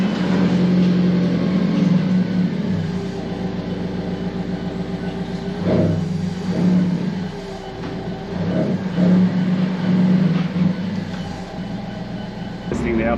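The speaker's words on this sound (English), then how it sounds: "Testing the Alfa 4C after putting in, was it two?" An Alfa Romeo 4C on the road after a camber adjustment, a continuous loud engine drone and road rumble heard from inside the car, its pitch swelling and easing with several gear changes, with no talk.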